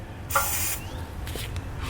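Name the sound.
spray lubricant sprayed into threaded frame holes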